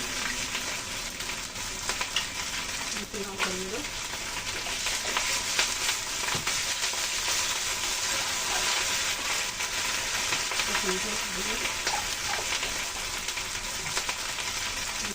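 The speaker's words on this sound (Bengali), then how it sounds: "পেঁয়াজ কুচি করে ভেজে নিয়েছি। এখন দিয়ে দিচ্ছি আদা, জিরে বাটা" Ginger and cumin paste frying with chopped fried onions in a pan makes a loud, dense, continuous sizzle with faint stirring scrapes, close by and uninterrupted.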